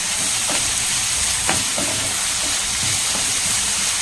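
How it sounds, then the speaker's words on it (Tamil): Ginger garlic paste sautés in a hot pan with a loud, continuous sizzling hiss, punctuated by a few faint scrapes and taps of a stirring spoon, no speech over it. "இப்போ நல்லா இஞ்சி பூண்டு பேஸ்ட் பச்சை வாசனை போகிற அளவுக்கு நல்லா வந்து வதக்கலாம்."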